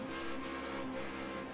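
A race car engine in Project Cars 2 drones at high revs, a faint continuous whine holding steady through the clip without talk.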